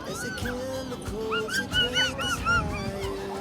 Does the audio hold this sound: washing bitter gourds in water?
no